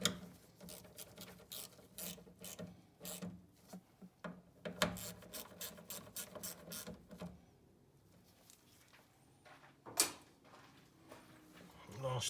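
A hand ratchet clicks in quick bursts while bolts on a Mazda RX7 FD fuel pump are snugged down evenly, with short runs of ratcheting separated by pauses and a few clunks, close and fairly quiet.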